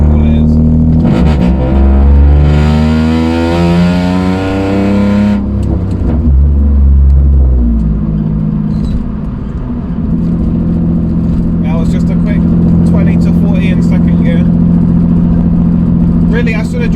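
A loud Toyota Aygo engine, tuned to stage 2 at 97 bhp, revs hard and roars through its aftermarket exhaust, pitch climbing and falling, with rattles and a voice talking over it.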